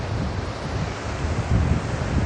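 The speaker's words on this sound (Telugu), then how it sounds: "ఆ దెబ్బల పైకి వాటర్ రావడం గమనిస్తున్నారు కదా" Sea waves wash over the rocks at RK Beach in a constant surging roar, close and loud, with wind buffeting the microphone and no voices.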